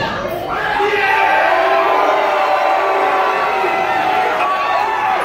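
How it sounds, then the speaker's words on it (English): A loud wrestling crowd roars in a sustained ovation during a televised TWF match, cheers and shouts blending into a steady wall of noise that holds for several seconds. "what an ovation for Beast"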